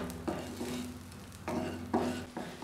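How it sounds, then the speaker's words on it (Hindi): Butter melts and sizzles in a kadhai on the gas, coming in bursts of crackling hiss with a low background hum and occasional light scraping, and no one speaking. "हमें बटर को मेल्ट होने देना है।"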